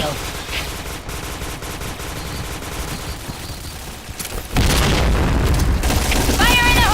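Video game gunfire from the shooter Point Blank rattles in rapid bursts, with a louder barrage of shots and booms arriving toward the end over a dense mix of game sounds.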